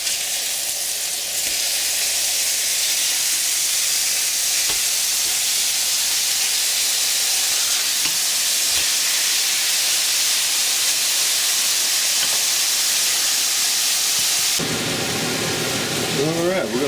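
Mexican-style hamburger patties frying in a pan just after being flipped, a loud continuous sizzle and hiss held steady, with a brief scraping clatter near the end.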